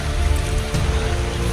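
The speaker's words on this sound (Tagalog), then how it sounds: "Umuulan na po mga kalangga." Rain falls steadily on a muddy mountainside in the Philippines, a soft continuous patter with no one speaking.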